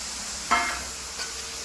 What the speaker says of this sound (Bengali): মাশরুমগুলোকে দিয়ে আর একটু ভালো করে নাড়াচাড়া করে নেব